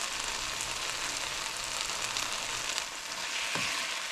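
A thickened tomato and tamarind chutney mixture with fresh cilantro sizzles steadily in a pan while being stirred, a constant close frying hiss with soft scraping and one louder clack near the end.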